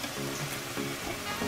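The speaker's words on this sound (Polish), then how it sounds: "Chrust smażymy oczywiście po obu stronach." Oil sizzles and crackles steadily in a hot pan as dough for chrust (angel wings) fries, a continuous busy frying hiss without talking.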